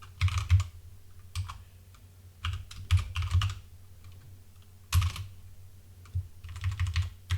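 Code is typed on a computer keyboard in quick irregular bursts of close, crisp key clicks separated by short pauses, with no talking.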